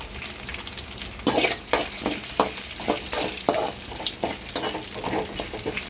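Finely chopped garlic frying in oil with cashews and chana dal, a steady close sizzle broken by repeated sharp scrapes and clinks of a spoon stirring in the pan, with no talking.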